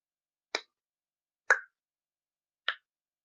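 A voice imitates non-pulmonic click consonants: three sharp, isolated clicks made with the mouth, spaced about a second apart and heard alone, with no other sound in between.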